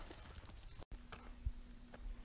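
A few soft hoof clops from a horse on a path near Matlock sound faintly at an uneven walking pace, set against low outdoor background noise.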